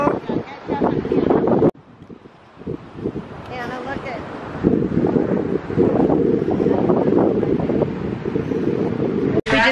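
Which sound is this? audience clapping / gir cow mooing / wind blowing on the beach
wind blowing on the beach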